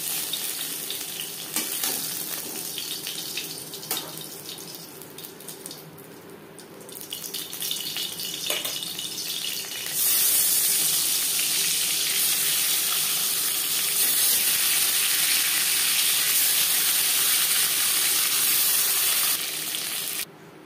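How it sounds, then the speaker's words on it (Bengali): Pangas fish frying in a pan of oil gives a steady, close crackling sizzle with stirring scrapes, growing louder and denser partway through and holding to the end, with no voices. "প্রথম ব্যাচের মাছ ভাজা হয়ে গেছে"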